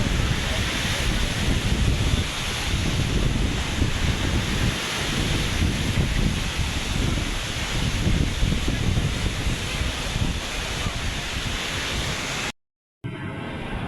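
Big offshore sea waves surge in a continuous, loud roar of rushing water and surf, heavily buffeted by wind on the microphone, with one brief dropout near the end.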